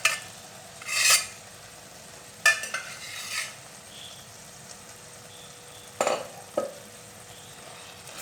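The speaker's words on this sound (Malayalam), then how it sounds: "ഇനി നമുക്കിതൊന്ന് നന്നായിട്ട് ഇളക്കി യോജിപ്പിക്കാം" Stingray pieces being stirred into a Kerala-style thirandi curry, a few separate scraping and clinking strokes of a spoon in the pot spaced out over a soft background, fairly close, with no talking.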